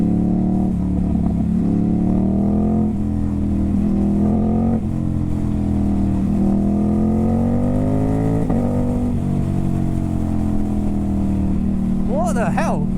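Ducati Hypermotard 950 SP motorcycle with an aftermarket exhaust and ECU tune, riding in traffic: a steady, loud engine drone that rises and falls gently with throttle, held at cruising revs throughout, with a brief higher whine near the end.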